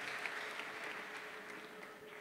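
A church congregation claps together, a dense steady patter of many hands that stays even for a couple of seconds with no voices over it.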